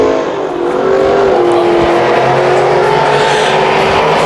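358 Modified race cars roar down the front straight at a dirt track feature, a loud, sustained engine drone that swells steadily with no pauses.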